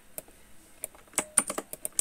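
Keystrokes on a computer keyboard as a command is typed into a terminal, sparse clicks building to a quicker burst of several taps, fairly close and clear with no talking.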